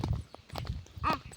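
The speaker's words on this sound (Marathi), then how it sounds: "आपल्या चप्पलचा आवाज बी ठॅप ठॅप ठॅप ठॅप" Sandals slap on a road beside a forest as someone walks, a few quiet, uneven flat smacks with short pauses between them.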